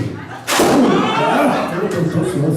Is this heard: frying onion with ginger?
no